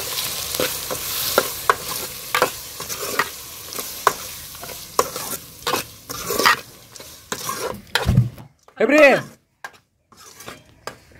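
Potato curry with tomatoes being stirred in a pan, a spoon scraping and tapping in a rhythmic series of close, sharp strokes over a light sizzle, broken by a brief spoken voice and a pause near the end.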